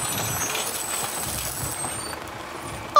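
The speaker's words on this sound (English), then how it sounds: "Whoa! It's a big, green dump truck." A big green dump truck, with a steady, fairly loud engine rumble and air-brake hiss throughout, ending in a sudden loud burst.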